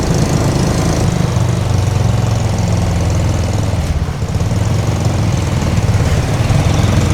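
A small motorcycle engine on a tricycle in a flooded town runs close and loud in a steady rumbling idle, with a slight dip in the middle before it settles back.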